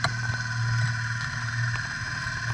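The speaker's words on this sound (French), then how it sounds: "Il y a les bateaux qui sont pas loin. Vous pouvez entendre les hélices." A steady low mechanical drone and whine of nearby boat propellers heard underwater, muffled, churning not far off, with faint clicks on top.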